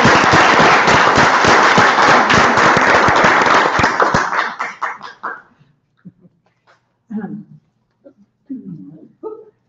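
An audience at an annual general meeting claps loudly and densely for about four seconds, then the applause thins to scattered claps and fades out, followed by a few brief bursts of talking.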